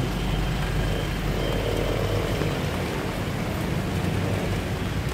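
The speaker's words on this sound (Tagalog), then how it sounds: "Babawiin natin ang ating napakalakas na dinadatnan na ulan." Heavy rain pours steadily and densely on a street in San Juan City, a constant loud wash of drops with no voices or breaks.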